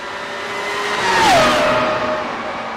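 V10 engines of Dallara Formula iR open-wheel race cars at Suzuka in iRacing, a high-pitched whine sweeping down in pitch as a car screams past, swelling loud then fading over steady background engine noise.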